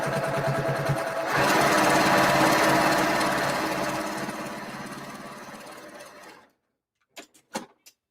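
A sewing machine stitches steadily through a quilt, a dense mechanical whirring that picks up in speed after the first second and then runs on before stopping, followed by a few faint clicks.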